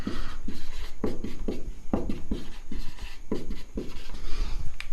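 Chalk scratching across a classroom board as a teacher writes math, a rapid series of short gritty strokes in irregular rhythm, close and clear with no talk over it.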